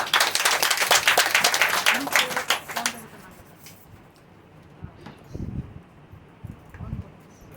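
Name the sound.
congregation applauding loudly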